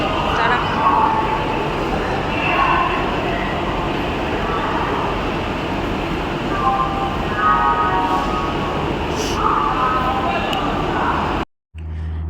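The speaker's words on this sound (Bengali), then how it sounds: "এই যে আমাদের ট্রেন ছেড়ে দিয়েছে" A train pulls out of Howrah station, a continuous rumbling clatter of rolling wagons heard from on board with faint background chatter, ending in a brief drop-out.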